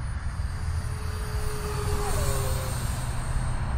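An FMS F-35 64mm EDF model jet cruising at about half throttle, its ducted fan giving a steady distant whine and rush that shifts slightly in pitch as it passes, heard alone outdoors.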